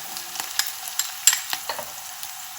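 Green chilies fry in hot oil with a bright, crackling sizzle. Quick irregular pops and stirring clicks sound close and loud, with no voices.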